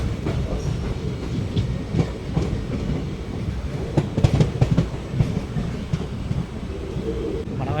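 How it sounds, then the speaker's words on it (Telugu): A demo passenger train bound for Sonipat rolls past a junction in light rain, a loud, steady rumble of wheels on rails with repeated clickety-clack joints over nearly eight seconds. "సోనిపత్ వెళ్ళే డెమో ట్రైన్ అది."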